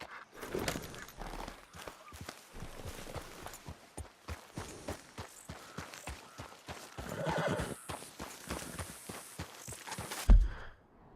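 A horse in the Red Dead Redemption 2 video game neighs and snorts amid steady clip-clop hoofbeats on the ground, close and fairly quiet, ending with a sharp louder thump.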